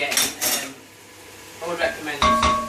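A very hot cooking pan handled in a home kitchen during chicken curry preparation, giving several sharp metallic clanks and scrapes in separate bursts, near and fairly loud.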